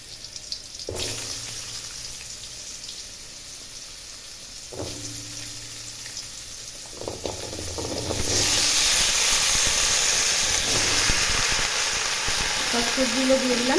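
Potato, pointed gourd, ridge gourd and pumpkin hit hot oil seasoned with nigella seeds, with a steady close hiss that swells into a louder, broader sizzle partway through, punctuated by a few clanks against the pan.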